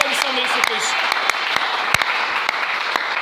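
A church congregation claps in scattered, uneven, individual claps rather than a full ovation, while a voice talks over them.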